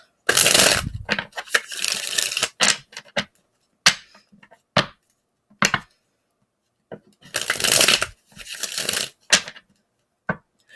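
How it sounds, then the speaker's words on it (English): A tarot card deck is shuffled up close, bursts of riffling card flutter alternating with sharp taps and pauses as the cards are squared and cut, with no speech. "even how I shuffle is very deck dependent"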